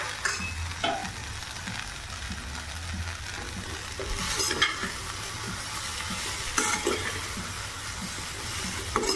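Boiled pasta is sautéed with masala in a pan, giving a soft continuous sizzle. Occasional stirring strokes and scrapes of a spoon sound against the pan, with no voices.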